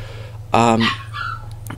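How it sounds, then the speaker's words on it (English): A dog whines from another room of a house, a single short high-pitched yelp-like whimper followed by a fainter trailing whine, heard over a steady low electrical hum. "One of the dogs really hates it when no one's in the room with it, so it starts whining."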